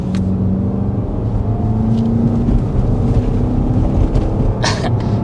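A 2024 BMW X5 M Competition rolls over gravel, its cabin filled with a steady rumbling road and tyre drone beneath a low engine hum, with faint crunching ticks throughout.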